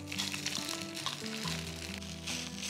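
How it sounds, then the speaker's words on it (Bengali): Gobindobhog rice frying in hot ghee in a small wok, a steady close sizzle with soft crackles, continuous throughout, with a faint tonal hum underneath. "ঘি দিয়ে চালটাকে খুব ভালোভাবে ভেজে নিতে হবে।"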